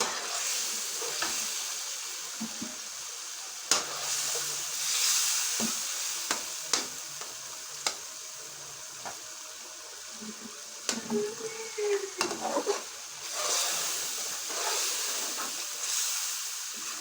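Masala frying in a pot for beef nihari, a hissing sizzle broken by repeated spoon scrapes and knocks as it is stirred, close, with no talking.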